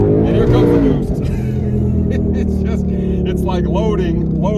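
Twin-turbo Ford Mustang GT pulling hard under boost after a downshift, a loud steady engine roar building in pitch, heard from inside the car with someone talking over it.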